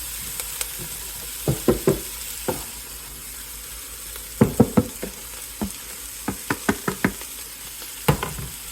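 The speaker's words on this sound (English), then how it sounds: "So I'll keep on stirring." Kale stirred in a frying pan, scattered clusters of sharp scraping clicks and knocks over a faint steady sizzle, close and moderately loud with no talking.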